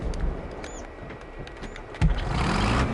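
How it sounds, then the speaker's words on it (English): A John Deere tractor engine in the farming game Farming Simulator 22, a low steady rumble that swells louder after a couple of seconds, with no talking over it. "Boys, we got ourselves a good old tractor here"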